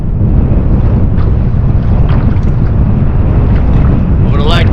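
Strong wind buffets the microphone on the St. Croix River in Minnesota during a walleye fishing trip, a loud, constant low roar and rumble lasting throughout, with a brief higher whine near the end.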